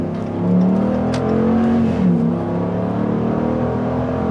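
A Ram Warlock pickup truck accelerates onto a motorway, its engine note climbing steadily, with a brief shift near the middle and sustained road and engine roar heard from inside the cab.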